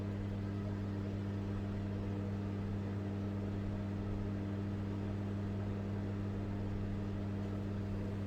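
Steady low electrical hum of a running microwave oven, constant and unchanging throughout with no voices.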